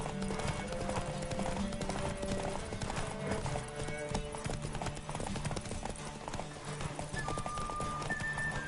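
A horse gallops in the Cyberpunk video game, with rapid steady clip-clop hoofbeats running throughout under game music and ambience. A brief whinny is mixed in.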